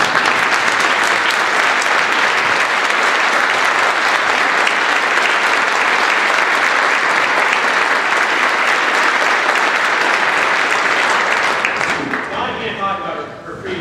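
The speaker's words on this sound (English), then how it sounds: "Donna, I'd like you to stand and accept the applause" Sustained, dense applause from an audience at a state constitutional officers' recognition ceremony in Maine, steady and loud for about twelve seconds before tapering off.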